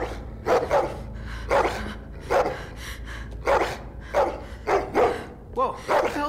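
A dog in The Walking Dead video game barks in a string of sharp, close, loud barks at an uneven rhythm, with someone talking over them.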